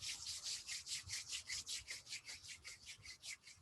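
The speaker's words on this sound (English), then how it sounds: "We'll rub the hands vertically together, creating some warmth in our palms." Palms rubbing vertically against each other during a hand yoga practice, a steady, close, rhythmic swishing of about fifteen even strokes with no talking.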